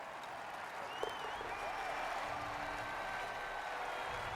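Crowd applause in the Rory McIlroy PGA Tour golf video game at the Arnold Palmer Invitational, a sustained wash of clapping at moderate distance, steady throughout.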